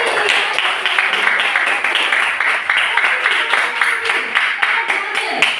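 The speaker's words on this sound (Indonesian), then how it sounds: "tepuk tangan untuk Egi" Class applauding a student named Egi during a school lesson, loud, close clapping from a small group that continues steadily throughout, with voices mixed in under the claps.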